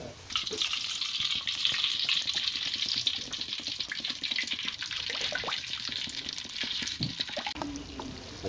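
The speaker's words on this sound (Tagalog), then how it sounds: "Prito natin ng talong." Eggplant sizzles in hot oil in a pan for kare-kare: a steady, bright crackling hiss with scattered pops, close by and moderately loud throughout.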